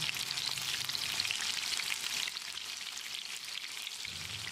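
Moist mushrooms deep-frying in a restaurant-style pepper fry, a dense, continuous hiss of bubbling oil that stays steady throughout, close and without speech.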